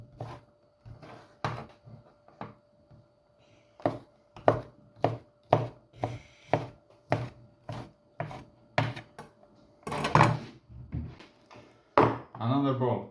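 Chicken is chopped into small pieces on a board with a knife, a series of sharp, evenly spaced thuds close up, with short pauses and brief speech near the end.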